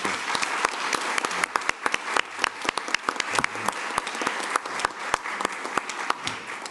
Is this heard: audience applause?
yes